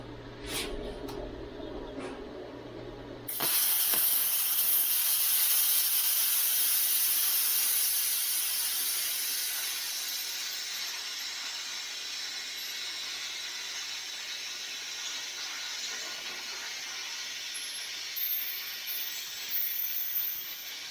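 A Vevor Cut 50 plasma cutter set at 70 psi cuts through metal with a loud, steady hiss and roar after a short lead-in. The sound eases slightly partway through and runs for about seventeen seconds.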